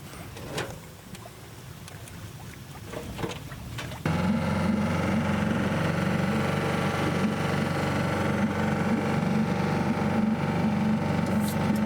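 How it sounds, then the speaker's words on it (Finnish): A sailboat's engine idles steadily on Lake Keitele in Finland, a loud continuous low drone with a mid-range hum that starts abruptly partway through and runs unbroken to the end. "Moottori on käynnissä varmuuden vuoksi."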